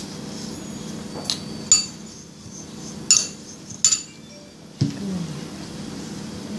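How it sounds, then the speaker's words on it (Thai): Granulated sugar being added to roasted sesame seeds in a pan for a Thai sweet, with several sharp clinks and taps of a utensil against the pan over a low background hum, close and fairly quiet. "คั่วเรียบร้อยแล้วนะคะต่อมาเราก็จะมาใส่ในส่วนของน้ำตาลทรายกันค่ะ"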